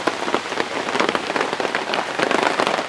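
Steady rain falls hard and close on an outdoor surface, a dense patter of drops with no pauses or voices.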